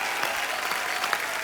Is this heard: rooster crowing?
no